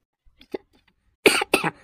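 A man suffering from a cold coughs twice in quick succession, close and sharp, after a few faint soft sounds in a rural Marathi comedy scene.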